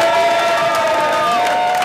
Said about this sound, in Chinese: 今天在会场现场响起支持者的欢呼声